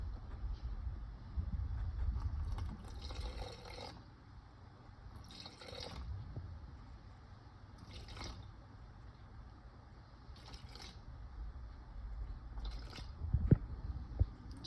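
Water poured onto whole wheat sourdough dough in a mixing bowl on a kitchen scale, a series of short trickling and splashing bursts separated by pauses, close and moderately quiet.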